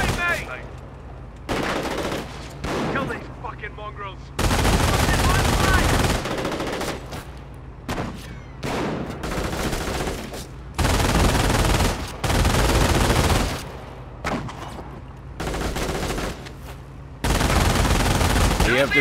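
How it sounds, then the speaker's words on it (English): A half-track's machine gun fires in the Company of Heroes game, with several loud sustained bursts alternating with quieter gaps of battle noise. "they add additional firepower to the half-track's own machine gun."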